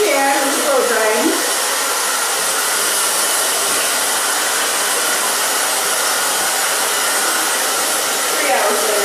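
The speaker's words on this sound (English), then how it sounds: "We'll hurry as fast as we can with blow drying." A hair dryer blows steadily on thick, layered hair, a loud continuous rushing roar that holds for the whole stretch with only slight shifts as it moves, while a voice murmurs faintly in the background.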